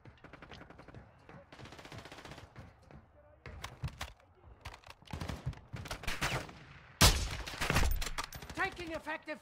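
Rapid bursts of automatic gunfire and scattered single shots crack through a video game battle in Vondel, irregular and close, growing louder toward the end, with voices talking over the shooting.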